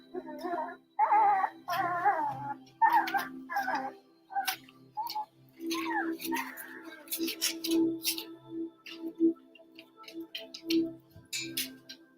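Newborn puppies sleeping together after nursing, one whimpering softly in its dreams, with short whiny yelps and squeaks scattered over quiet background ticking and low hum.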